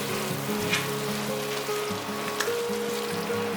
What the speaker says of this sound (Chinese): 大约拌炒一下